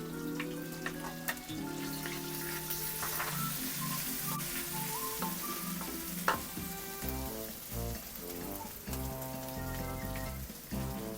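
Garlic and ginger sauté in annatto-tinted oil for Filipino bopis, giving a steady, close crackling sizzle that runs the whole time with no talk, over a continuous backing of instrumental music.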